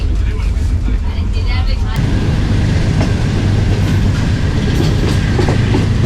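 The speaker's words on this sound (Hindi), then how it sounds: "गोजर खान रेलवे स्टेशन के ऊपर अप्रोच बना रही है 36 टाउन रास लॉजिस्टिक्स की ट्रेन सर सैयद एक्सप्रेस।" The Sir Syed Express train approaches Gujar Khan railway station with a loud, rolling rumble and rhythmic clickety-clack of wheels that swells and continues throughout.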